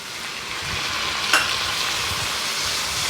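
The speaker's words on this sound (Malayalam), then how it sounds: "ഇനി ഒരല്പം വെള്ളം ഒഴിച്ച് കൊടുക്കാം." Loud, continuous sizzling from a hot pan of softened tomatoes, with a brief sharp hiss as water hits the surface partway through.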